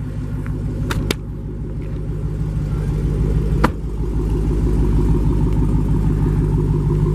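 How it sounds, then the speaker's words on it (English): A 2019 Dodge Challenger SRT Hellcat Redeye Widebody idles in normal mode with a deep, steady, pulsing exhaust rumble, loud and close, with a couple of sharp clicks over it. "you can hear, even just in normal mode at idle, this has the meanest exhaust note I think I've ever heard"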